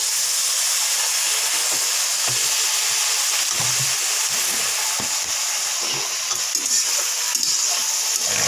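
Water poured into a pan of frying spice paste for small-fish curry sets off a loud, steady hiss and sizzle of steam, close up, with a few scraping stirs and no talk.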